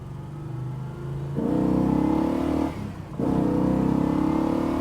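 A 1964 Pontiac GTO's engine revs up loud and close, a steady deep drone that drops briefly between gears before pulling hard again, with no talk over it.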